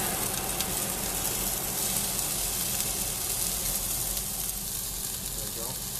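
Turkey fries in a pan with a loud, steady, broadband sizzle and crackle that fills the whole stretch without pause.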